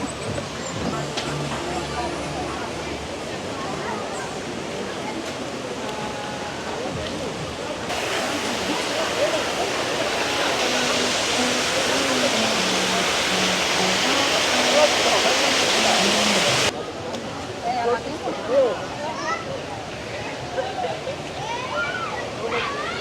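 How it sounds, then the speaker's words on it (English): Steady rushing water running through a lazy river at a beach-themed water park, a broad continuous wash that grows louder in the middle stretch, with people talking nearby over the flow. "they got the lazy river kind of going through here a little bit"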